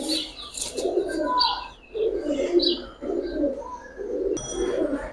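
Giribaz coloring pigeons cooing in steady low throaty bursts, three or four clear phrases with brief chirps between, loud and close, with no talk.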